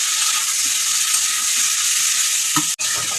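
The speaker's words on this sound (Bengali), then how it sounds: "এবার সব একসাথে আমি এটা নাড়তে থাকবো।" Onions and mutton sizzling in a pan for mutton do-peyaza while being stirred, a loud, even frying hiss with low scraping thuds and a brief dip near the end.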